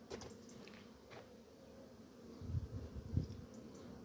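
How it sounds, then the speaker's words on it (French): Asian hornets fly about outdoors near traps, their faint, low buzzing hum rising slightly toward the end over a quiet background, with no talking. "Là il y a pas mal de frelons asiatiques."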